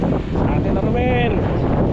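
Wind rushes against the microphone in a steady low roar on a mountain trail at Mt. Lagyu, Rodriguez, Rizal, with a voice partly audible beneath the buffeting.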